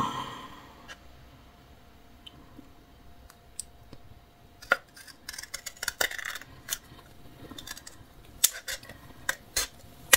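Large scissors cutting wool yarn for a bonnet: a quiet room, then a cluster of sharp metallic snips and clicks in the second half, close and irregular.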